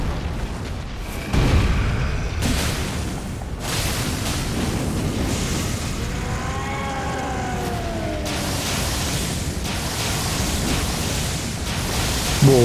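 A roaring, rumbling blast of fire breathed by an enemy in the video game Elden Ring, loud and sustained for several seconds alongside layered game effects, with no speech.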